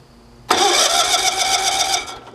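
A small gas engine with the choke out is pull-started and sputters into a loud, buzzing run for about a second and a half before fading.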